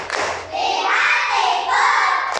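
A primary school class in Indonesia performs a patterned group clap together, a loud, close burst of hands clapping in rhythm with children's voices mixed in.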